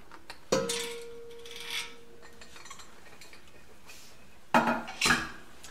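The metal lid of a steam sterilizer is opened: a sharp clank with a brief ringing tone, some quieter rattles, then two more metallic clunks near the end, close by in a quiet room.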